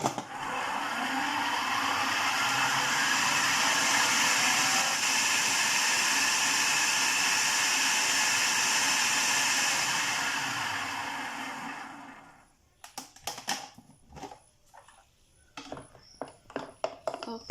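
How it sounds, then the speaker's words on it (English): An electric mixer whisks almond and coconut koose batter in a loud, steady whirring drone for about twelve seconds, then cuts off, followed by scattered clicks and knocks of handling the bowl and tool. "Okay, I'll whisk again to get it very fluffy."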